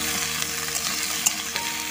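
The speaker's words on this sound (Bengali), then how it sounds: "এবার আমি এই ধুয়ে পরিষ্কার করা সবজিটা দিয়ে দিচ্ছি। ভালো করে নাড়াচাড়া দেব।" Washed bottle gourd frying in hot oil in a pan while being stirred, a steady close sizzle with a few scraping stir knocks and no talking.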